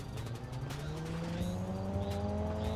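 Loud car engines in the video game GTA 5, including a Porsche, rev and rise in pitch steadily in the foreground, with rapid throaty pulsing and faint tire noise.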